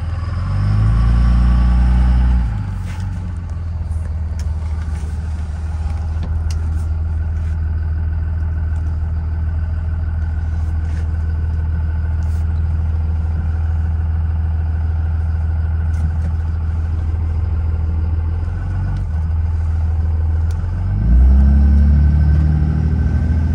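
A Cummins diesel truck engine running on an MM3 tuner custom tune drones steadily while driving, a low, loud rumble that swells briefly near the start and again near the end.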